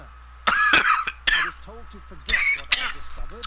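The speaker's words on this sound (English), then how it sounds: "here come the coughs already" A man coughs several times in a row, harsh and close, with throat-clearing between the bursts and a steady low hum underneath.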